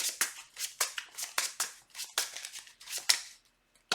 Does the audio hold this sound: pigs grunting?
no